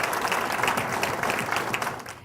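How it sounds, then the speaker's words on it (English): An audience at a museum opening applauds the organizers, a brief dense burst of many hands clapping that fades out quickly. "I think we should give a hand of applause to those who organized this museum"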